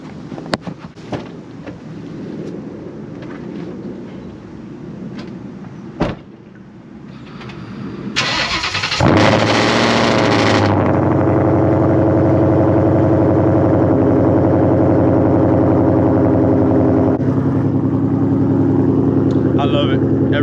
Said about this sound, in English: so I'll give you guys a quick cold start.